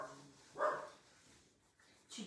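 Female dog indoors giving a short muffled bark, then a fainter yip near the end, against a quiet room.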